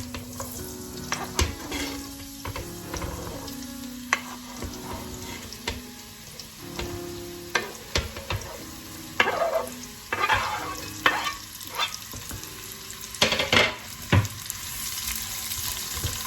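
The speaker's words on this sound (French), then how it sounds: "quand l'huile est chaude, on vient y mettre la mirepoix" Diced mirepoix sizzles in hot olive oil in a cooking pot over high heat while a utensil stirs it, giving repeated scraping knocks over a continuous frying hiss, close and without voices.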